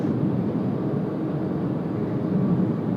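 Aircraft taxiing southbound on taxiway Alpha at Sydney Airport, a steady low engine rumble and drone holding evenly throughout, moderately loud with no talk.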